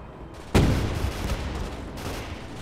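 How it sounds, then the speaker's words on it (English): Heavy gunfire from a 20mm cannon in the World War II video game Gates of Hell: a sharp, loud blast opens a dense rolling burst of shots and booms that continues at steady volume, with no voices. "It sounds like a 20mm cannon or something."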